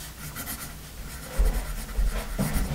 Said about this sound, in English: And do some writing here.